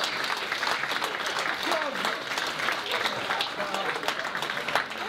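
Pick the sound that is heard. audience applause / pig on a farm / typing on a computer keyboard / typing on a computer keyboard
audience applause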